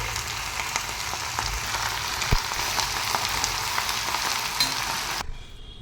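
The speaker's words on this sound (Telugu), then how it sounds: "అందులోకి తోటకూర వేసేయాలి కొంచెం పసుపు కూడా వేసుకొని బాగా కలుపుకొని మగ్గనివ్వాలి" Amaranth leaves with a little turmeric fry and cook in a pan, giving a continuous close crackling sizzle with faint occasional stirring knocks that cuts off abruptly near the end; no one speaks.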